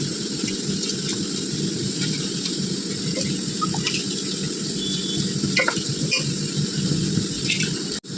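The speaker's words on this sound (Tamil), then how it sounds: "கொதித்த உடனே நம்ம அந்த அரிசியை போடுவோம்." Basmati rice goes into boiling water in a pan for prawn biryani and is stirred; a continuous close bubbling, sizzling hiss runs throughout, with faint scraping and no speech.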